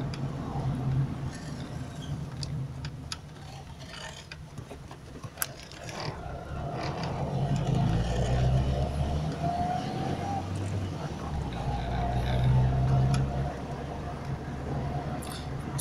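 A 2004 Volkswagen Gol G3 driving through city streets, with a steady low engine and road rumble heard from inside the car and the engine swelling slightly midway, under occasional talk.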